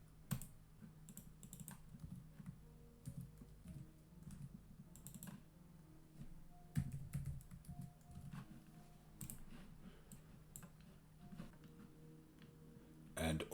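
Fingers type JavaScript code on a computer keyboard, a steady close patter of key clicks with brief pauses and a few louder strokes, running throughout in a quiet room.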